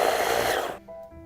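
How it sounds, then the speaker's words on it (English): Blender whirring through savory pancake batter, a loud steady motor roar that cuts off abruptly near the end, leaving a quiet tonal hum. "if the blender is not blending it finely enough or it's struggling"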